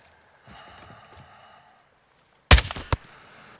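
Sniper rifle shots ring out in a Call of Duty: Modern Warfare 2 (2022) cutscene: a soft ambient lull, then a loud, sharp crack followed quickly by a second shot and a faint trailing hit.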